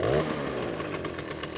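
Engine of a Soviet Riga Mini RMZ-30 moped revving briefly as the throttle opens during warm-up, a rising buzz that settles into a steady close-up running drone.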